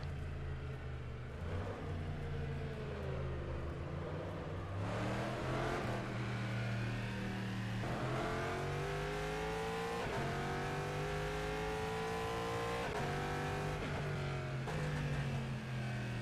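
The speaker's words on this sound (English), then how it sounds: "You hear that sound? Sound of an engine?" Racing car engine in the rFactor 2 sim racing game, revving continuously with rising and falling pitch sweeps through gear changes, loud and close throughout with no talk.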